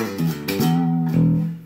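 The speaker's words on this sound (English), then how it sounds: "the bass sounds like this with nothing on." A 1998 Music Man StingRay bass played through an Ampeg amp with a flat tone, giving a few deep, round sustained notes that follow one another closely.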